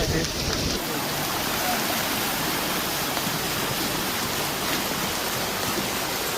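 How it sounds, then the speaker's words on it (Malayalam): A dense, steady roar of heavy monsoon rain and overflowing streams in Kerala fills the whole stretch, loud and unbroken. "ഫുള്ള് വെള്ളം, തോടുകളൊക്കെ നിറഞ്ഞൊഴുകുക കേട്ടോ"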